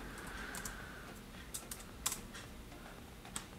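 Light, scattered keystrokes on a computer keyboard in a quiet room, a few soft clicks spaced irregularly over a faint background hiss.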